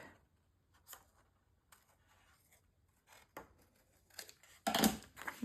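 Scissors snip a curved line through paper for a Graphic 45 Ghostly Greetings mini album page, in a handful of sparse, quiet cuts that build into a denser, louder burst of crisp snipping near the end.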